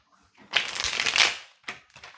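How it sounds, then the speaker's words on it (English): A Witches Tarot card deck is shuffled close up, one long riffling burst followed by two shorter quick shuffles, with no voices. "Let me just shuffle this Witches Tarot deck"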